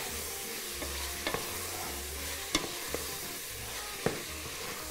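Garlic sizzling in a pan while being stirred, a soft continuous fry with periodic scraping strokes and a few sharp spoon taps against the pan, quiet and close, with no one talking.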